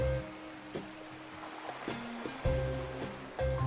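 Ocean waves wash in the game Love and Deepspace, a soft surf swell beneath background music with tonal notes, repeating gently and fairly faint.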